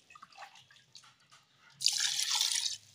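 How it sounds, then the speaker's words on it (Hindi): Water pours steadily into a cooking pot holding beef and spices for an Eid beef curry, a loud splashing rush lasting about a second after a few light kitchen clinks, with no talking. "और अब इसमें पानी शामिल कर देते हैं"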